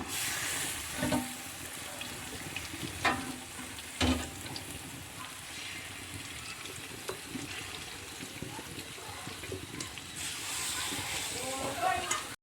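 Meat for kuzhimandhi fries in a covered pot on low heat with a low, steady sizzle, broken by occasional stirring knocks, while someone talks over it.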